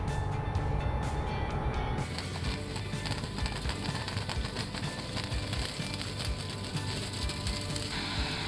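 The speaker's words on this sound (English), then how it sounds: "The machine is equipped with digging blades or rotating shafts to gently cut the soil around the onion bulbs" Onion harvester working in a field, its digging blades and rotating shafts cutting the soil around the bulbs: a steady, loud mechanical clatter of ratcheting gears and rattling parts that grows denser after a couple of seconds and continues without pause.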